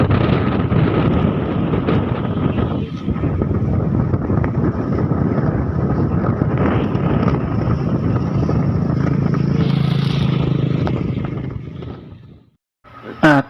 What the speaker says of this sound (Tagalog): Napakalakas po ng amihan.